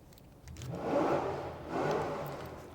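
A car engine revving loudly outside, two long surging swells of acceleration rising and falling one after the other, heard from indoors.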